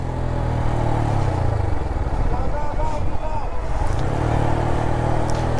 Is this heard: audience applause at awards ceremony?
no